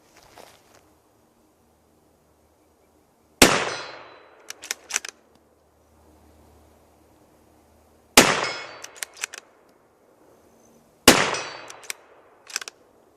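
Rifle shots from a Ruger American Ranch 300 Blackout ring out outdoors, three sharp cracks spaced several seconds apart, each followed by a quick cluster of metallic clinks and echoing decay.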